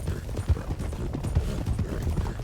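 Horse hooves clip-clop in a quick, uneven rhythm while a rider sprints on a horse, loud and close, with no talk.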